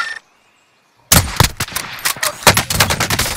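Video game gunfire: after a short quiet gap, a loud, close barrage of sharp shots rips out in quick irregular bursts, each crack punchy and distinct, continuing to the end without talk.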